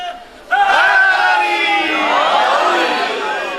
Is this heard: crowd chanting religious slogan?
yes